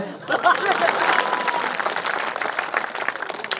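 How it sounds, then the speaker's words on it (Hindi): An audience at a Hindi poetry performance breaks into applause, a dense, lively clapping that stays steady throughout, with a few voices calling out faintly near the start. "ताली बजाइए।"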